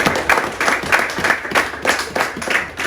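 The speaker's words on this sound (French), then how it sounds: "Donc acclamons pour nous tous ensemble" A crowd at a gathering applauds together, a dense, steady wash of many hands clapping with rhythmic swells, fairly close and sustained.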